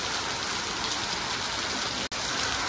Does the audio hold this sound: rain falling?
yes